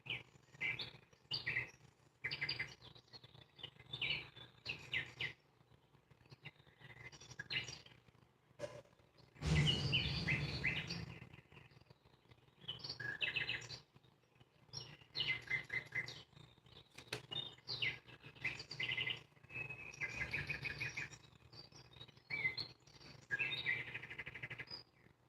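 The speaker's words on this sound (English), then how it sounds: "in the background of that babbling brook, we're going to have these birds. So it sounds like birds off in the distance" Birds chirp and tweet off in the distance beside a babbling brook, quick bursts of calls repeating throughout over a soft, steady background, with no voices.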